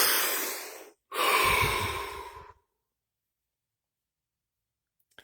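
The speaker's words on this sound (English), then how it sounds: "Deep breath." A person takes a deep breath: a long airy inhale, a brief pause, then a longer audible exhale that fades out, followed by silence.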